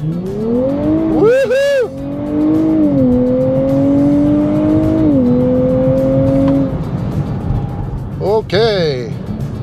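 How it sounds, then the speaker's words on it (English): A 2023 Nissan Z Performance launching hard from a standstill in sport mode without launch control, engine revving up through rising gear pulls with upshifts, loud and close, with a voice whooping over it. "we are in the auto with no launch mode. We're in sport mode. Here we go."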